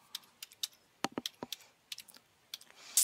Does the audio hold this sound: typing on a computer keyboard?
yes